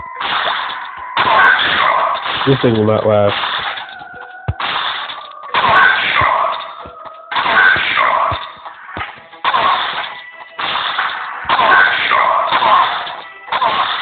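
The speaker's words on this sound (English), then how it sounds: "Gunfire." Shotgun blasts in the zombie shooter Pixel Dead go off in a steady series of loud, punchy bursts roughly every second or so, with a brief comment spoken over the gunfire.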